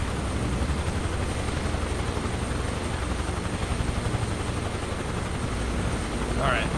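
A helicopter in Microsoft Flight Simulator 2024 gives off a steady, loud rotor and engine drone that fills the whole stretch without a break.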